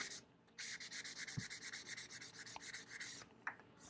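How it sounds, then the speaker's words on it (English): Hand sanding of a painted piece of furniture, a steady back-and-forth scratch in an even rhythm of about two strokes per second, close and fairly loud, with no voices. "I did the initial sanding outside because it was messy."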